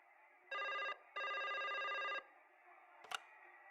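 A cell phone rings in the Broken Sword 5 adventure game: a short electronic ringtone burst, then a longer continuous ring, followed by a sharp click as the call is answered.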